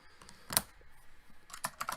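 Computer keyboard keys clack in short, uneven bursts, a sharp single tap and then a quick cluster of strokes, close and fairly quiet with no speech.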